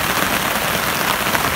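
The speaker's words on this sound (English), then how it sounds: "we got a nice little rainstorm" A rainstorm patters steadily on a tarp at a state park campsite, a dense, loud, even hiss of drops with no pauses and no voices.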